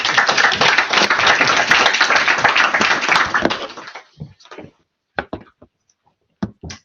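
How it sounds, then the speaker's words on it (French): Audience at a tech meetup talk applauds with dense, loud clapping for about three seconds, then it thins out to a few scattered final claps before falling quiet. "J'accepte que les applaudissements soient pour Gauthier et pas pour moi"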